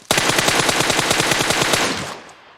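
An automatic weapon in PUBG Mobile fires one loud, close, rapid burst of evenly spaced shots lasting about two seconds before cutting off into a short fading tail.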